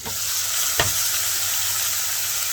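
Chopped onion, green chilli and garlic cloves frying in a pan give a loud, steady broadband sizzle close by, with one sharp tick partway through and no talking.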